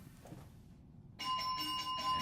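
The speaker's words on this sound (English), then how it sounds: "The bell rings." A bell starts ringing partway through, a steady, bright electric ring that holds to the end over a low background murmur.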